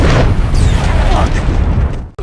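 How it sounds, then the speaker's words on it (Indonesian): A loud, rumbling explosion of a car hitting a landmine, with a dense low boom and crackling debris filling the whole moment before cutting off abruptly. "mobil yang dikendarai Jimenez meledak karena terkena ranjau darat."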